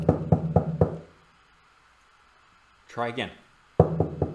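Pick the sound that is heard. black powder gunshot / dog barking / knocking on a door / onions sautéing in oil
knocking on a door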